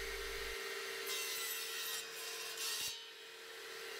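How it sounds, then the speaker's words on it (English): Table saw fitted with a crosscut fence cutting wood for planter boxes: a steady motor whine runs throughout, with two brief, rough cutting bursts as the blade passes through the board. "then switch on the saw. Using this crosscut fence allows me to keep my hands far away from the saw blade."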